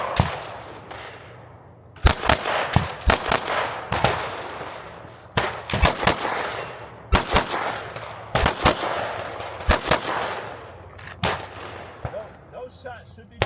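Gunshots fired at a shooting range, a string of loud, sharp reports in irregular groups of single and double shots, each followed by a short decay, with quiet gaps between bursts.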